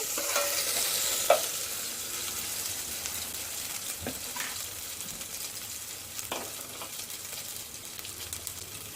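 Chicken curry masala stirs and fries in a pan, a steady close sizzle with scraping stir strokes and a few louder clinks, no talking.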